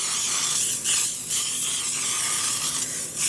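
A steady hiss of liquid spraying out of a spray bottle under pressure, with brief dips and sputters as the stream falters and resumes, close and fairly loud.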